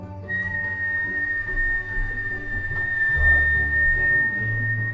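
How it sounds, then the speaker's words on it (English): One long, sustained whistle on an exhaled breath during a guided meditation breathing exercise, close and steady for about five seconds over low background rumble. "Fake it if you can't whistle."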